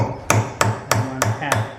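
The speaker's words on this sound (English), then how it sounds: "I'm going to take a chisel and a hammer. I'm going to put it in the groove." A hammer taps a chisel set in a groove on a Power Team SPX cylinder, with five sharp, evenly spaced metallic strikes, each ringing briefly, loud and close with no talk.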